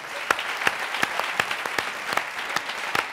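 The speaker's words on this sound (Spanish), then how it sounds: "Aplaudirle que hace mucho que no le aplauden" An audience applauds at a comedy roast battle, giving steady close clapping with a few sharp accents, and no talking over it.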